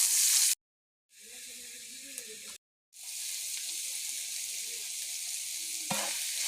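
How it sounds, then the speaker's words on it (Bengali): Oil sizzles and crackles steadily as chopped garlic, onion and dried chilli fry, broken by two brief silent gaps, with faint clinks of stirring. "এখন ভালো করে নেড়ে চেড়ে ভেজে তারপরে এর মধ্যে শাকটা দিয়ে দেব"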